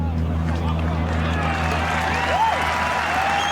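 A golf gallery claps and cheers after a shot, a steady wash of applause with crowd murmur over a low constant hum, moderately close.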